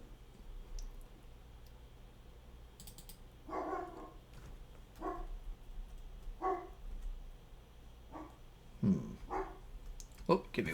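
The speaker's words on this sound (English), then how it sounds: "My dog's barking." A dog barks somewhere in the house, a string of faint, distant single barks spaced a second or two apart over a steady low hum.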